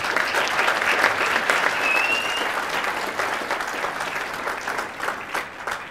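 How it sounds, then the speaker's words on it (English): A lecture audience gives a round of applause, dense, steady clapping filling the whole stretch and tapering slightly toward the end, with no speech over it. "we have a round of applause for them for sure"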